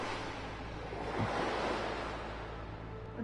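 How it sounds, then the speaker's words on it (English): Water sloshes and washes in a steady, close wash of surf-like noise as a character swims through water in the zombie survival game Dying Light: The Following, with no talk over it. "I'm swimming in water, baby."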